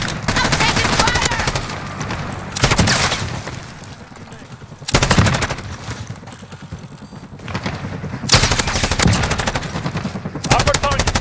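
Sustained automatic gunfire in the Call of Duty Modern Warfare Survival mode, loud bursts of rapid shots coming in waves with brief lulls, blended with game sound effects and background radio chatter.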